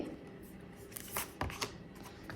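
Tarot cards shuffled and drawn by hand, a soft papery riffle with a few sharper flicks and slaps, close and quiet, with no talking.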